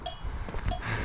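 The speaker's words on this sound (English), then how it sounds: "Heard his bell ringing." A bell hung on a horse rings twice in the rain-soaked Pyrenees mountains, a short clear tinkle near the start and again later, over steady wind and rain noise.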